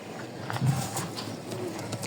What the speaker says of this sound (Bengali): নর কবুতরটা ছেড়ে দেখেন